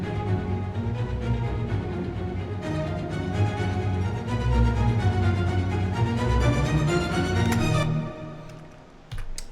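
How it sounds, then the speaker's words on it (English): Low MIDI orchestral strings play a brooding 7/8 Voldemort theme, a dense, sustained and steady layer of bowed tones, swelling slightly midway before cutting off near the end, with no voices. "let's just take a listen to just the strings so you get an idea of what this Voldemort theme"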